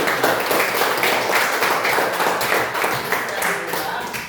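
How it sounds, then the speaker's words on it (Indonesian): Students in an informatics classroom clap together in a dense, steady round of applause lasting several seconds, loud and close, with some voices mixed in. "Tepuk tangan."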